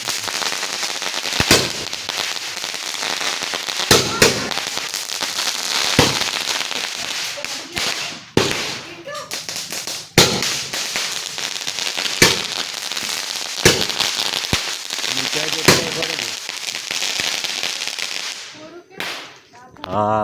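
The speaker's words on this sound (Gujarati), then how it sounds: "હા 12 ધડાકા પૂરા થઈ ગયા." Diwali firecrackers burst in a series of about a dozen sharp, loud cracking bangs spread over a continuous crackling fizz, with voices faint in the background.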